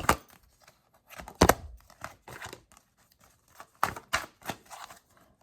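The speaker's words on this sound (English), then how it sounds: "As you see, I'm shuffling everything right in front of you." Tarot cards shuffled by hand in short bursts of riffling, flicking and slapping, with brief pauses between the rapid papery clusters; close and fairly quiet.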